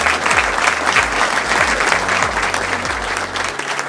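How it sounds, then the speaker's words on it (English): Dense, loud audience applause at a Morehead State University press conference announcing the 11th athletic director, a continuous wash of many hands clapping indoors with faint crowd murmur, steady throughout. "Would you give a round of applause for our 11th Athletic Director"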